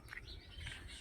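Birds chirp and tweet in the village hills on a morning walk, with short bright calls over a steady, soft outdoor background.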